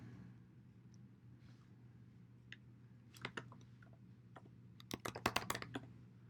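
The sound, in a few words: typing username and password on computer keyboard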